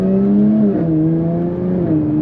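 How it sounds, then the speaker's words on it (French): Steady, loud exhaust drone from a 380-horsepower Jaguar F-Type S running in sport mode with the exhaust open, holding a sustained rumble with a slight pitch dip midway, heard close from inside the car. "Là on est en mode sport, échappement ouvert"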